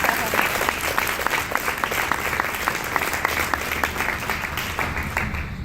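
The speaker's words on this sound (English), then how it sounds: "you can clap if you believe it" Audience applause at a YMCA event, steady dense clapping from a crowd sustained throughout, moderately loud with scattered sharper claps standing out.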